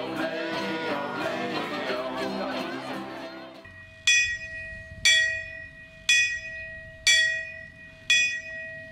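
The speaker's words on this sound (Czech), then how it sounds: "A zazvonil zvonec" A small bell in a restored village belfry rings five evenly spaced, clear metallic strokes, each ringing on and decaying, after a stretch of crowd chatter and music that ends abruptly.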